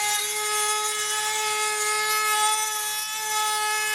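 Steady rubbing and filing on a bone flute whistle's splitting edge, a continuous close scratchy rasp with a faint steady whine underneath, no voices.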